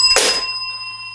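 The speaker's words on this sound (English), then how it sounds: "I just knocked an old Clawdeen doll over onto the Punster High bell." A toy bell from a Monster High playset struck by a collector doll knocked over onto it, a single close bright ding with sustained ringing tones that fade slowly over about a second.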